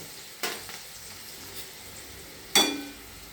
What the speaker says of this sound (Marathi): शेंगदाणे तर चांगले परतले गेले पाहिजे, त्यामुळे मंद गॅसवर थोडंसं